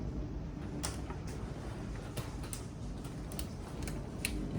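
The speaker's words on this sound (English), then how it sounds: "And there comes the hail." Hail striking a window and surroundings during a spring thunderstorm with a tornado warning, a steady dense pattering with scattered sharp ticks and clacks from nearby impacts over a constant rushing background.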